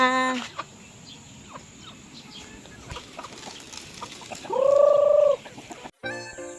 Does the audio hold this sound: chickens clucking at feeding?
yes